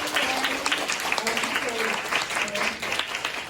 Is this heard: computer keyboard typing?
no